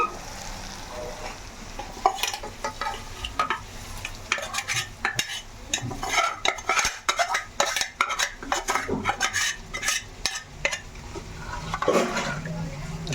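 Pulao being stirred and mixed in a pan: irregular scraping and clinking of a utensil against metal with a soft sizzle underneath, continuous and close, with no talking.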